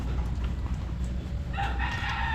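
Chickens cluck close by while a rooster crows partway through, loud against a dense outdoor background noise.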